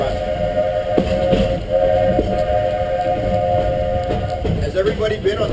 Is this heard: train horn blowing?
yes